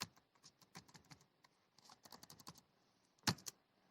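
Fast, uneven keystrokes on a computer keyboard while code is typed, close and quiet, with a couple of louder key hits near the end and no talking.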